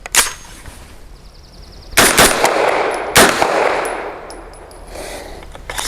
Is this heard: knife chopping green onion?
no